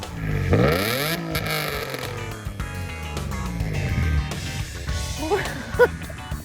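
A Nissan VQ engine in a 350Z drift car revs up and back down with a rising and falling whine, then a few quick blips, loud and close with some clatter.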